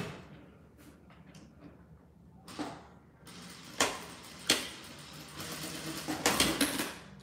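A home sewing machine stitching small patchwork pieces for a squeeze pouch, running in a few short bursts with a rapid mechanical whir that grows louder and denser toward the end, close by and without talk.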